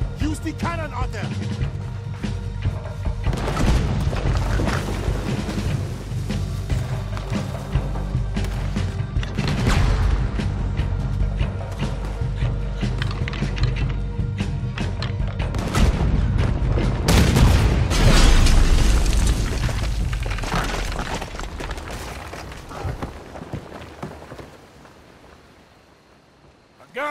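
Heavy booming cannon blasts in Red Dead Redemption 2 go off repeatedly over rumbling ambience, with a dense cluster of loud bangs near the end, mixed with game sounds.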